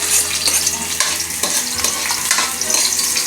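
Garlic and onion sauté in a pan with a loud, close, continuous sizzle and crackle, broken by scraping stirs at irregular intervals, with no talking.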